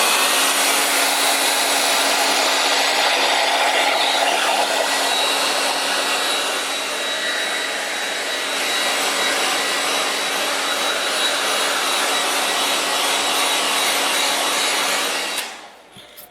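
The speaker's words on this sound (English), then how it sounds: "I'm gonna give them a blast with my blow dryer just to make sure that the ink really is dry" A hair blow dryer blasts steadily on paper stamped with ink, a loud continuous whooshing roar with a faint whine that runs unbroken for about fifteen seconds before cutting off abruptly.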